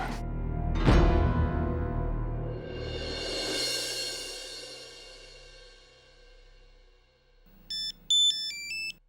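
A telephone ringtone plays a short melodic pattern of bright, repeating electronic tones at a moderate level, following a swelling musical sting in a television drama scene.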